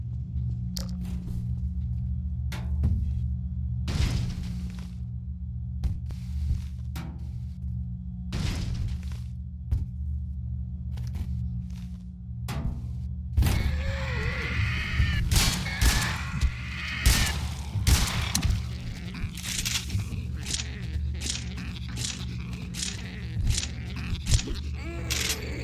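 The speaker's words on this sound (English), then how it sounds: "it's a really good representation of the Half-Life Alyx shotgun in my opinion, and it's really satisfying to shoot with." Half-Life Alyx shotgun firing in Garry's Mod, a string of sharp blasts with irregular gaps, sparse at first then coming in a denser, busier burst over a steady low hum.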